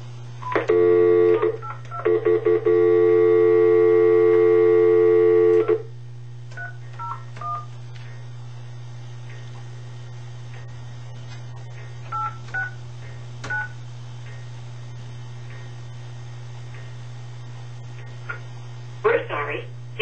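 Touch-tone keys dialing a telephone number make a loud, rapid burst of beeps followed by a longer held tone, over a constant mains hum, then a few faint scattered beeps and quiet.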